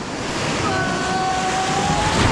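Wild water of the undammed Yellowstone River rushes and churns around a raft, a loud continuous broadband roar with wind buffeting the microphone and a faint whistle-like tone drifting through.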